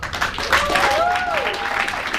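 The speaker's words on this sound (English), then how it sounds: "Ladies and gentlemen, please give me a huge round of applause for our 3-star director, Mr. David" A large live-event audience in London breaks into sustained, dense applause, loud and continuous throughout, with a voice calling out over it.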